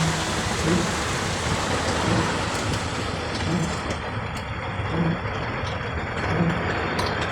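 Rain falls steadily on a street in Dhaka, a dense, even wash of noise close by, with a low rumble of passing traffic underneath.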